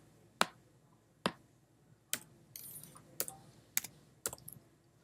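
Seven crisp, evenly spaced keystrokes on a computer keyboard in a quiet room, each a sharp isolated click with faint room hiss between.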